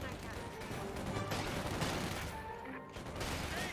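Company of Heroes 2 battle between Wehrmacht and Soviet infantry: scattered gunshots and bursts of rifle fire crackle at a distance, mixed with a busy battlefield din.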